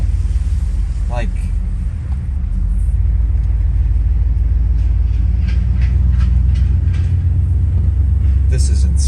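A 1989 Chevrolet Suburban taken from a junkyard drives along with a steady, loud, low engine and road rumble heard from inside the cabin, while people talk over it.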